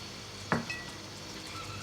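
Chopped garlic hits hot oil with a brief sharp sizzle, followed by a soft, steady frying hiss and faint clinks of a pan, all quiet and close with no talk.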